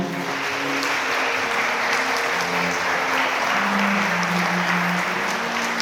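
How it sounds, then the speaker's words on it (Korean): Wedding guests applauding the bride and groom in a wedding hall, a long, steady, dense wash of clapping with faint background music underneath. "신랑 신부 인사 박수 부탁드립니다"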